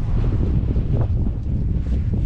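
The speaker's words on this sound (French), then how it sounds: "Un peu de vent quand même" Strong south wind buffeting the microphone on a gravel bike ride near Mont Brouilly, a low, continuous rumbling roar, loud and steady throughout, with no voices.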